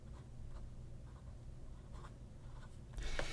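A vintage Aurora 88 fountain pen with a pointy nib moving across paper, soft scratchy strokes in short bursts, quiet and close, ending with a slightly louder rustle.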